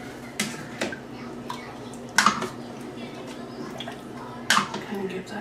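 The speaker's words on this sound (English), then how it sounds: "I'm going to give it a good stir since there's all kinds of good stuff in here" Spoon stirring loaded baked potato soup in a Ninja Foodi pot, a few sharp metallic clinks and wet sloshes spaced a couple of seconds apart over a quiet background.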